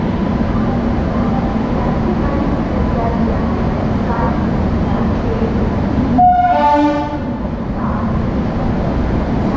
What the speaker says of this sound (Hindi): ये देखिए इलेक्ट्रिक लोकोमोटिव होने की वजह से बहुत ही कम समय में कितनी ज़्यादा एक्सेलरेशन हो गई है।